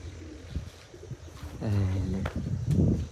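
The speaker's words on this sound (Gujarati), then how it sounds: "એ આપણું કબૂતર છે" Soft, low cooing of a pigeon nearby, repeated a couple of times over faint background rustle and murmur.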